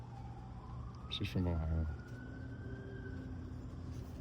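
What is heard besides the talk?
ambulance siren passing in the background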